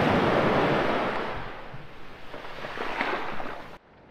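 Sea waves wash back off a shore in a loud rushing hiss that fades, then swells again before cutting off, with some wind noise on the microphone.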